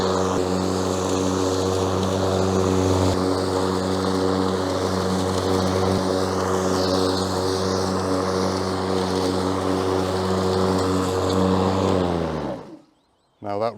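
A Cobra 21-inch battery lawn mower runs with its blades engaged, giving a loud, steady electric hum with a droning tone. The sound holds for about twelve seconds, then cuts off abruptly.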